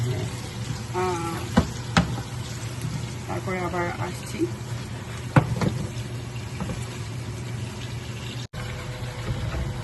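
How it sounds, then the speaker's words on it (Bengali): Chicken sizzles in hot oil in a pan for a chicken roast, a steady broadband frying hiss running throughout beneath a woman's close speech, with a couple of brief clinks. "আমরা চিকেনটা ভাজা পর্যন্ত ওয়েট করি"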